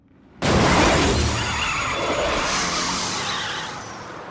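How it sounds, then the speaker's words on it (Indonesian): A car in a film strikes a pedestrian on a road at night: a sudden loud crash of shattering glass and impact bursts in, followed by a long skidding, tire-squealing rush that slowly fades, with no talking. "Malamnya saat sedang di jalan pulang Tarek justru ditabrak oleh sebuah mobil"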